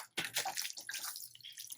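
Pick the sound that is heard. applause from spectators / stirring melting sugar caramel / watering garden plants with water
watering garden plants with water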